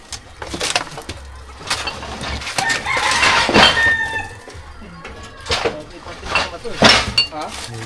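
Chickens cluck and squawk in irregular bursts close by, mixed with scattered clatter and people talking in the background.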